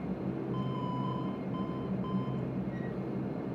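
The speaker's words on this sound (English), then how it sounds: "Takeoff warning, horn has been checked" A Majestic Q400 takeoff warning horn in a flight simulator, an intermittent steady electronic tone sounding in repeated bursts over a constant cockpit hum.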